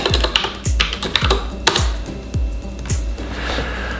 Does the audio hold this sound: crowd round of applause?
no